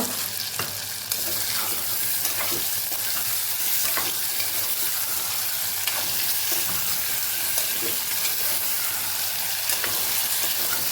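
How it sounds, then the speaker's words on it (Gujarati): Potatoes with their skins on sizzle steadily in hot oil, a constant crackling hiss with occasional stirring scrapes throughout. "થોડી વાર આપણે આ તેલની અંદર ફ્રાય થવા દેવાના છે"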